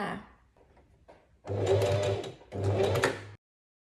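A sewing machine stitches the side seam of a dress being altered at the waist. It gives two close, steady bursts of motor hum and needle clatter, each lasting about a second.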